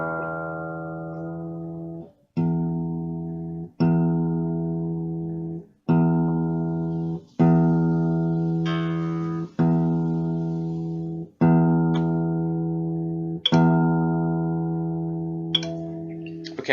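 A guitar E reference tuning tone rings out in repeated long notes, each fading slowly before the next is struck, about eight times in a steady rhythm.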